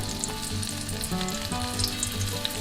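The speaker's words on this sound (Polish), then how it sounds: "Smażenie rozpoczynam od strony skóry." Carp fillet for a Christmas Eve dish, marinated in milk and coated, fries skin side down in a pan over moderate heat, giving a steady close sizzle with light crackles and no voices.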